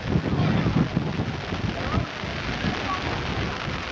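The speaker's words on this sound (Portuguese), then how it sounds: "O vento já chegou a virar o guarda-chuva de lado aqui" Rain and gusting wind batter the microphone at an outdoor football match, a loud continuous rush with rumbling buffets throughout.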